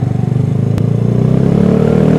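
Vespa Matic Sprint 150cc scooter pulling away on a Jakarta street, its engine note rising steadily as it accelerates, close and fairly loud, with a brief clatter early on.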